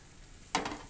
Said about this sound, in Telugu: ఇటైతే ఇప్పుడు మేము కొంచెం సొరకాయ తాలింపు వేసుకుందాం అనుకొని